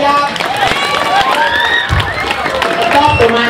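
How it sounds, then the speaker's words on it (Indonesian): Audience clapping and cheering at a Balinese comedy (banyol) performance during a Calonarang show, a lively crowd burst heard close alongside loud speech and laughter throughout. "Itu rame dikit na tepuk tangan ke Rai"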